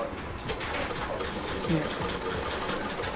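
An electric sewing machine runs steadily, stitching sacks made to hold coffee beans, with a continuous whirring mechanical drone and faint rhythmic clatter; a voice speaks over it now and then.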